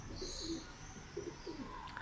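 Soft, low cooing from a male white pigeon repeats in short pulses, fairly close, over a faint background with a brief higher chirp near the end.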